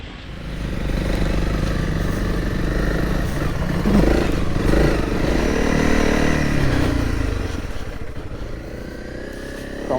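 A Honda CRF300L trail motorcycle climbs a steep, broken, rocky track, its engine droning loud and steady close by for the whole stretch, with rattling and clattering over the rough surface.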